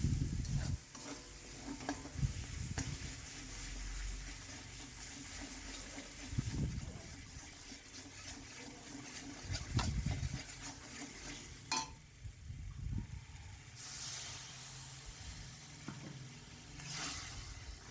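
Spice paste of dried and green chillies, cardamom and cinnamon sizzles and crackles in a pan as the spice-rinsing water goes in, with stirring scrapes and bubbling under a steady low hiss, fairly quiet.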